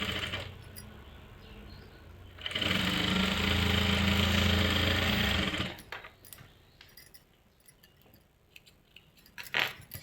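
A sewing machine runs a steady, buzzing motor for about three seconds while stitching a salwar seam, framed by quieter handling of fabric and a few light clicks.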